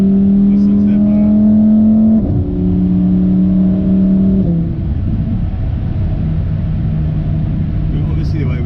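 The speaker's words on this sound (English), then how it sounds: "Listen to that motor." A Lamborghini Huracan Evo RWD engine pulls hard through the gears, rising in pitch with two distinct upshifts before settling into a steady loud drone, heard from inside the car.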